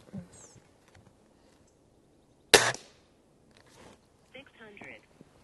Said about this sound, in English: So I'm going to shoot that one again because I know I pulled that one.